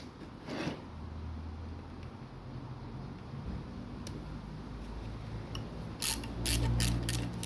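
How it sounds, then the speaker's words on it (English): A ratchet wrench loosening screws during disassembly of an Onga LTP750 pool pump, heard as a close, steady mechanical clicking with brief louder bursts of sharp ticks near the end. "Don't need that ratchet anymore."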